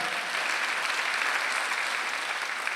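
Dense, even applause from a church congregation during a Sunday worship service, a short unbroken wash of many hands clapping with no speech over it.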